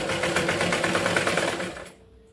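A sewing machine stitching a blouse sleeve runs in a fast, steady rhythmic chatter for about two seconds, close and clear, then stops abruptly.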